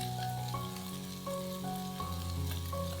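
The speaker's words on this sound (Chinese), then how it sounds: "再少来点油，把辣椒面炒香。" Chili powder stir-fried in a little oil for spicy rice tofu, giving a steady close sizzle and crackle with a scraping stir, no voices.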